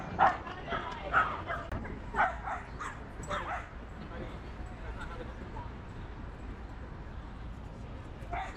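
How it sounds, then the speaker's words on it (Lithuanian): Several dogs bark and yip at a distance in a burst of scattered calls that fade out, leaving quiet outdoor ambience. "Žiūriu, kažkas loja, šunų parkas."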